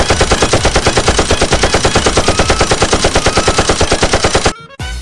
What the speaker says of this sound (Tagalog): nandito na ang machine gun